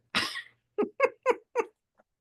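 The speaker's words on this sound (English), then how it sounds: "Do you remember Michael's cat that used to start howling every time he started talking?" A cat lets out one long drawn howl followed by four short repeated meows in a quick steady rhythm, fairly close and alone with no talking.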